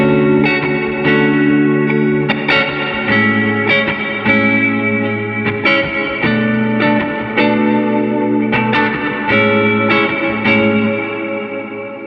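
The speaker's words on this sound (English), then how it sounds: "Let's say we want to lean on mostly the reverb." Electric guitar chords ringing out through a GFI System Solis Ventus reverb with a heavy wash, each strum trailing into a lingering echoey tail under the next.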